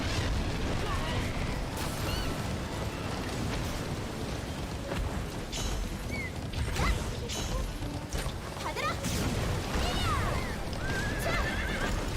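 A horse in the video game Alicia Online whinnies several times over clattering hooves and busy mechanical noise, with scattered voices mixed in.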